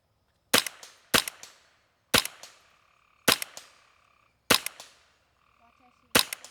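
Six sharp rifle shots from a Ruger 10/22 at a shooting range, fired at irregular intervals, each a loud crack with a short ringing tail, with a faint metallic ping after one of them and no speech.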